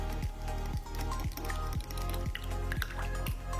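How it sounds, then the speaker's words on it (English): Sweetened condensed milk and heavy cream are stirred together in a bowl, the utensil scraping with a steady, repeating rhythm of soft wet strokes, close and alone. "Just gonna go ahead and stir that all together."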